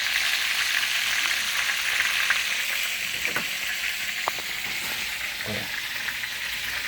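Chicken fillets sizzle steadily in a frying pan, a bright continuous crackle with a few louder pops and spits, close and without talk.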